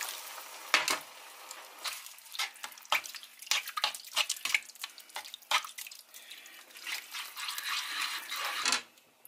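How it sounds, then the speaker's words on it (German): Liquid is poured into a pan of vegan bolognese made from rice cakes, giving light splashing and trickling with scattered clinks and stirring sounds close by, uneven and moderately loud, with no voices. "bisschen Flüssigkeit aufgießen."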